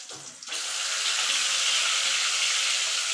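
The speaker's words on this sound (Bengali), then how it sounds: "এইভাবে মাছগুলো একটু ওপিট করে আমি লাল লাল করে ভেজে তুলে নেব।" Boal fish pieces frying in hot oil in a pan, a steady dense hiss and crackle that swells loud after a quieter first half-second and holds evenly throughout.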